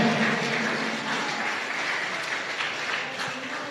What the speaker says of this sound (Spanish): Dele un aplauso a Cristo Jesús